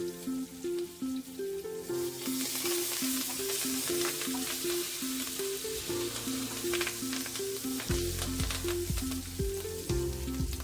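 Cumin seeds splutter in hot oil for dhaba-style jeera rice, a steady crackling sizzle running under prominent background music with a repeating melody.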